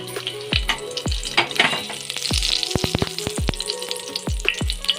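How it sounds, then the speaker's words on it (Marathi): Cumin seeds and asafoetida sizzle in hot oil for jeera rice, with a steady loud frying hiss broken by frequent sharp pops and crackles close by, and no talking. "तर मी जिरं सुद्धा घातलं आहे। आता घालणार आहे हिंग।"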